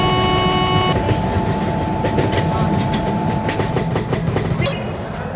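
A long high-speed express train rushes past at around 140 km/h, a loud, continuous roar with rapid clickety-clack of wheels over rail joints, a steady tone fading near the end, and a faint voice in the background.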